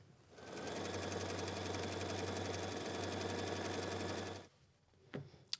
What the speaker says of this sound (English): I'm going to go ahead and go to the machine. I'm going to sew 1/4 inch on either side